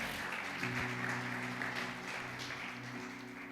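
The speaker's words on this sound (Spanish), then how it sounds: "denle un aplauso al que vive y reina por los siglos de los siglos" A church congregation claps during a worship service. Continuous applause sounds dense and somewhat distant, with a sustained musical tone running beneath it.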